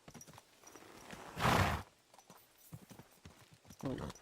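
Horse hooves clip-clop during riding in the video game Kingdom Come Deliverance 2, a short burst of hoofbeats with a loud crunchy peak amid scattered lighter steps, while someone talks quietly over it.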